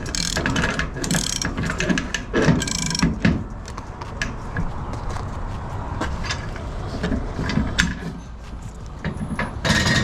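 A truck strap winch on a flatbed trailer ratchets in quick clicking bursts with metallic clanks, sounding up close and repeating throughout.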